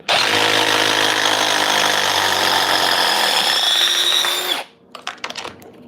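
A Ridgid Stealth Force pulse driver with a socket backing fasteners out, a loud continuous whirring hum for about four and a half seconds, then it stops and a few clatters and handling sounds follow.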